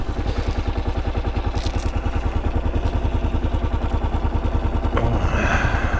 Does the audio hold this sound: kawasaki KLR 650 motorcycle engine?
yes